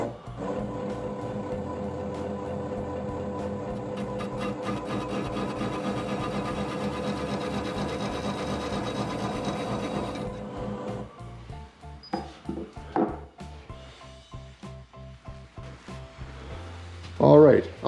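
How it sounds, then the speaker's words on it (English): A wood lathe spins a workpiece at 250 RPM with a steady humming drone for about ten seconds, then winds down into scattered scraping and knocking as a tool works the wood. "I'm going to be turning this at 250 RPM."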